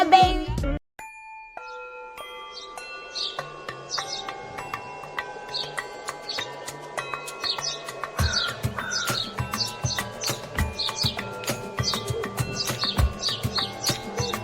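Morning birdsong in Busia in Ghana's Western region: many bright chirps and short whistled calls from several birds overlap continuously at moderate loudness, with a steady low hum beneath and a brief sharp knock at the very start.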